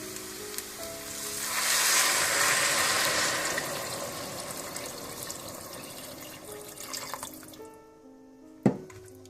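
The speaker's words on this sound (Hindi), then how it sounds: "आपने चनों में इतना पानी डालना है कि पानी कम से कम चनों से आधी उंगली ऊपर होना" Water is poured into roasting chickpeas in a hot pot, bursting into a loud hiss and sizzle that swells then slowly fades, ending with a sharp clank of the pot.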